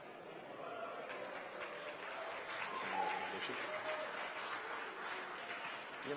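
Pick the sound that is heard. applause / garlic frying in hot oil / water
applause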